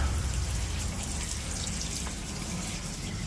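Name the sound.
vinegar being poured into lechon paksiw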